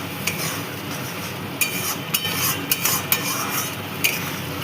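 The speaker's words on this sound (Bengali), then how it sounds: "এবার এটাকে ভালো করে মিশিয়ে নেব।" Cumin, coriander and Kashmiri chili powder mixed into a Bengali rui fish kalia, with a spoon scraping the pan in several distinct strokes over a steady sizzling hiss.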